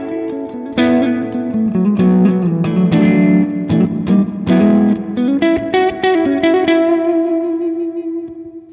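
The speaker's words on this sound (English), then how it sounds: "Church. That's more what I like, is a longer sort of filling the gap sort of reverb." An electric guitar runs through a long church-style reverb on a Hotone Ampero Mini multi-effects unit, with loud plucked notes and chords blooming into a wide, sustained wash that lingers and fades at the end.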